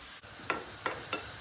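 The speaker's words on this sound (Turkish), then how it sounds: "Ekmeği attık hemen şöyle bir karıştıracağız." Bread being stirred into potatoes frying in oil in a pan, three quick scraping stirs over a continuous soft sizzle.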